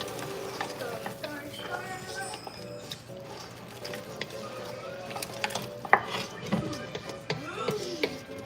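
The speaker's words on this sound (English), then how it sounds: "So I'm gonna stir it." A spoon stirs Ghana chicken light soup in a cooking pot, with irregular scrapes and knocks against the metal over a low simmering hiss and several sharper clinks near the end.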